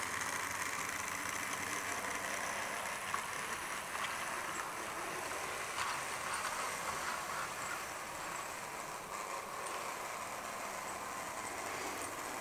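The motor of a small H0-scale model train locomotive, straining with a few freight wagons, runs continuously with a steady whirring hum and faint rattling, unchanging throughout.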